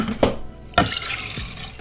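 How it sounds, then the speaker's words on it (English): Washed toor dal and water pour into a pressure cooker for Gujarati dal: two sharp splashing pours with a steady liquid rush between and after them, close and fairly loud, with no talk. "Now washed dal goes in the pressure cooker."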